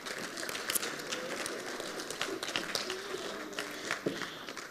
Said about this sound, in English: can we please give our CFO a big round of applause as she comes forward